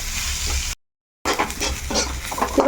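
Chopped onions, grated carrot and green chillies sizzle and crackle in hot oil in a pan, with stirring sounds. The frying stays steady and close apart from a brief silent cut in the middle.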